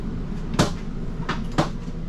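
Motorhome bathroom door knocks and thuds shut in two sharp, close impacts with a smaller bump between them over a steady low hum.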